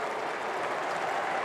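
A cricket crowd at a one-day international in Brisbane applauds after a cover drive, a steady wash of clapping and crowd noise, distant and even, with no voices over it.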